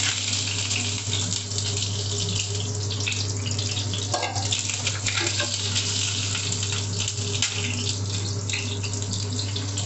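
Curry leaves and green chilies fry in hot oil while cooking channa masala, making a continuous dense sizzle with a low steady hum underneath. Close and even throughout, with no talking.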